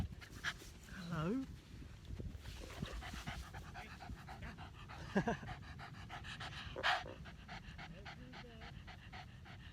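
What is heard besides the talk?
dog panting in a park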